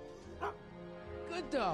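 Dog in the game Back to the Future Part 14, giving short yips and whimpery barks that are faint and mixed with voiced speech.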